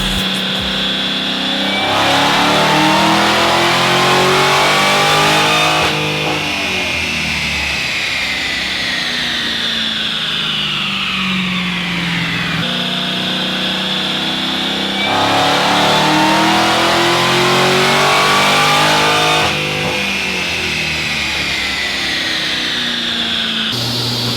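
A 2019 Dodge Hellcat with a JLT intake revs hard on a dyno through two long pulls, each climbing in pitch to a loud roar, then dropping back before the next pull winds up again.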